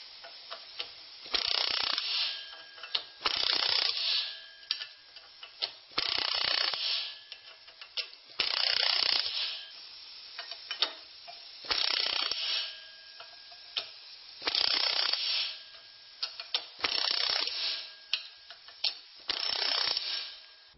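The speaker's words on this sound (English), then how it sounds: "I use the air riveting hammer to squish 2 rivets in each piece" Air riveting hammer squishing rivets into the side plate of a motorcycle luggage rack, heard as about nine loud bursts of rapid mechanical hammering, each lasting roughly a second, separated by short pauses.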